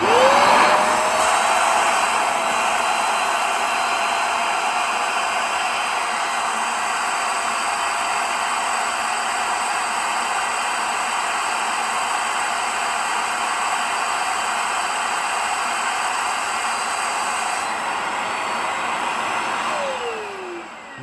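VAX SpotWash carpet cleaner running indoors, a loud, steady whooshing suction drone that holds constant for about twenty seconds before winding down.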